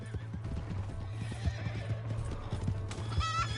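Horse in the Red Dead Redemption 2 video game neighing and whinnying over steady clip-clopping hooves, the neigh rising loud near the end above a low droning background.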